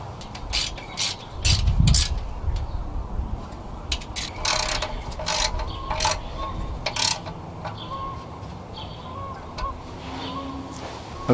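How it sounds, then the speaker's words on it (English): A hand ratchet clicks in quick runs and short bursts as it snugs 10mm bolts on the timing cover of a Volkswagen 2.0L Jetta/Golf engine, close and fairly loud, with workshop clatter between strokes. "There are 5 10mm bolts that need to get tightened up."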